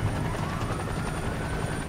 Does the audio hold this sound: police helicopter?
yes